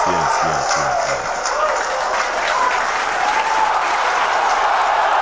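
An audience applauds, a dense, loud wash of clapping that holds steady for several seconds, with a few low thumps at the start.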